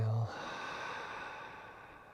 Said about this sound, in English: Very slowly take another deep awareness breath. And on the exhale,